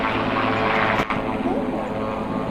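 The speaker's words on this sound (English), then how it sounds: "There's a big helicopter over here." A big helicopter passes overhead outdoors, a steady loud rotor and engine drone filling the whole span with a brief dip partway through.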